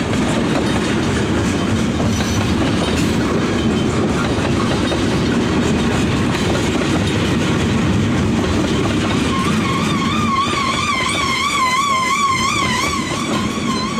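A train rumbles and clatters loudly past a railroad crossing with a mechanical bell, with a wavering ringing tone rising over the steady roar toward the end.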